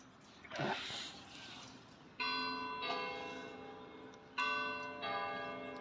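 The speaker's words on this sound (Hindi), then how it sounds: "ये चर्च की घंटी बज रही है।" A church bell rings in the morning at 7:30, several resonant strikes with long ringing decays, heard from a distance over faint background sounds.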